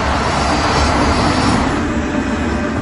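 A KLM airliner's engines roar steadily as the jet taxis into takeoff position, a loud, continuous broadband rumble and whine holding level throughout with no voices.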